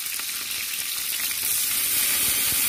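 Tomatoes and green chillies frying in oil for a Bengali potato, pointed gourd and soybean curry, with a steady close sizzle and light stirring scrapes running throughout, growing slightly louder partway through.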